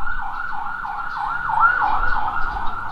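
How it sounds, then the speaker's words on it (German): An ambulance siren in Thailand wails in a fast, rapidly rising and falling yelp, loud and close, with road traffic rumbling underneath. "Jetzt kommt noch der Krankenwagen"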